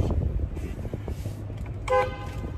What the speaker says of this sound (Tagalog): Let's make some horn.